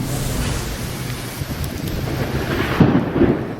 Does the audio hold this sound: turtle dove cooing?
no